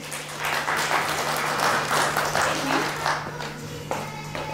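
Children and adults clap for first-graders at a Bulgarian school's letters celebration, a steady round of close group clapping that fades toward the end, with faint voices mixed in.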